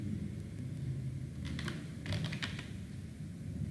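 Typing a command on a computer keyboard: a brief burst of several quick key clicks in two short clusters, close but light, over a steady background hum, no speech.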